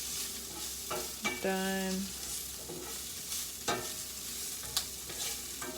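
Low-sodium sauce simmering and sizzling in a pan, a steady frying hiss with a few clinks and stirring scrapes, a short tonal beep partway through, close and moderately loud with no talking.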